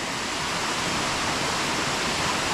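Water rushes down over rocks in a burn near a waterfall, a dense, steady hiss and roar of flowing water, loud and close with no break throughout.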